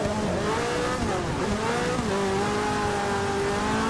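A Ferrari race car in the Forza Motorsport 6 video game at Sebring International Raceway holds a loud, continuous high-revving engine whine, its pitch shifting up and down through the gears.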